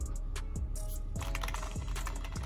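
Keys clatter steadily on a cheap LED-lit gaming keyboard from Five Below, a dense run of close plastic clicks and taps without pause or speech.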